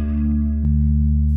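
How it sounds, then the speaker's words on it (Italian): Electric guitar through a Line 6 POD Express with a chorus effect, two sustained shimmering chords rung out one after another, loud and close with no voices over them. "Andare ad aggiungere ad esempio più chorus."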